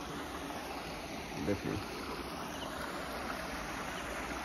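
Water flows out from under a small bridge in a village, a steady broad rush close by with someone briefly speaking over it.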